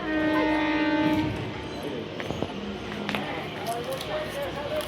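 Bound for Howrah, a passenger train gives a fading horn blast at the start, then rumbles on with brief horn notes and station clatter while people talk nearby.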